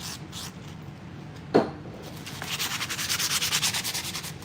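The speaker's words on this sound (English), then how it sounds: "I just take penetrating oil and I'll run them through that same sandpaper that I have." Sandpaper, 400 grit, rubbing a Tesla Model 3 brake caliper pin with penetrating oil, with a sharp knock early on, then rapid rhythmic back-and-forth scrubbing strokes close up.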